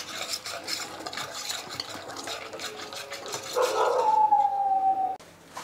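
Spoon stirring roasted, crushed kasuri methi into a tandoori chicken marinade spice mix in a bowl, a soft continuous scraping with light clinks, close by and moderately loud, briefly joined by a thin squeaky tone near the end.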